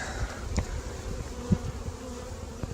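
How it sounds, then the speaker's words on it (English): Honey bees, including nurse bees, buzz in a steady, close drone around a hive box, with a few sharper knocks and rustles against the hum. "There's a few nurse bees that went with them."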